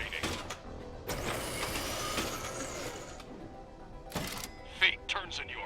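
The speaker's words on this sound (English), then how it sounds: "3 items to grind. Grinder activating." A loot grinder machine in Borderlands: The Pre-Sequel whirs into action with a sustained mechanical rumble and clatter, with short clunks before and after and a sharp chirp near the end.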